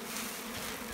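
A dense, steady buzz from many honeybees at a hive during colony merging, close and constant with no voices.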